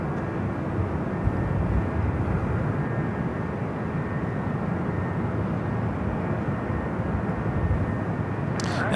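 A Turkish Airlines airplane at Los Angeles airport gives a steady, broad engine roar that holds at an even level throughout, heard from a distance with no talking.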